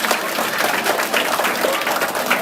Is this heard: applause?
yes